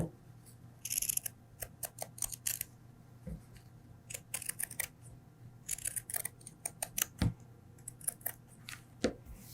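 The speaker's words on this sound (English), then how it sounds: "going to just trim the very edge of that so that when we turn it right side out" Scissors snip along the edge of a fabric seam allowance while a homemade flu mask is sewn, sounding as close, crisp cuts in irregular clusters with short pauses between them.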